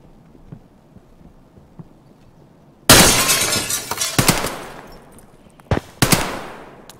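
Gunshots in Escape from Tarkov on a Reserve raid: a quiet stretch, then a loud sharp shot with a ringing tail, followed by further cracking shots close together.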